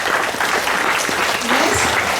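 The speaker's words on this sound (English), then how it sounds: "Let's give them a big round of applause." A school assembly crowd gives class 5A students a big round of applause, a brief, dense, even patter of many hands clapping throughout.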